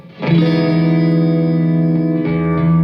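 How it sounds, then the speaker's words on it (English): A sustained electric guitar chord rings out with a subtle chorus shimmer and short delay from a Realizer guitar pedal, followed by a second strummed chord. "chorus and a shorter delay time, something that's going to sound like this"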